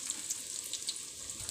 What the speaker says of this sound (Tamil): இப்போ எண்ணெய் விட்டு பாவக்காய் போடணும்.